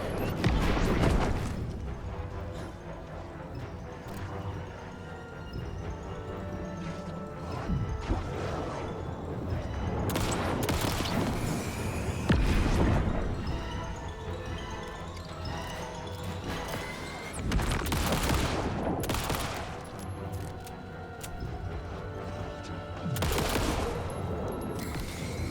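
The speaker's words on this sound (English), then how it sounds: "you're shooting things at me?" Heavy gunfire in Alan Wake 2, aimed at the player, pounds steadily throughout, with loud crashing shots and booms layered over a dense, continuous barrage.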